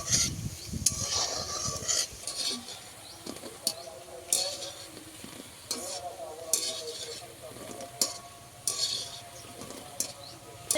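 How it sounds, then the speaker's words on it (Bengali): Gulab jamun sweets made with flour fry on low heat, giving a soft continuous sizzle broken by repeated clinks and scrapes of a metal spoon against the pan, close and moderately quiet. "উনুনের আঁচটা একদম কমিয়ে দিয়ে মিষ্টিগুলোকে ভেজে নিতে হবে"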